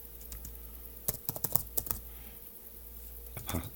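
Login details being typed on a computer keyboard, with a close run of crisp key clicks, a short pause and a final cluster of taps in a quiet room.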